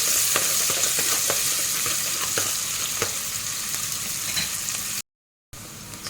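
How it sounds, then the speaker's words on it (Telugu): Sliced onions fry in hot oil for rice, making a continuous, fairly loud sizzle with occasional stirring crackles; the sound drops out briefly before resuming, and no one speaks. "ఇప్పుడు ఆనియన్ వేస్తున్నాము ఇది బాగా ఫ్రై చేసుకోవాలి"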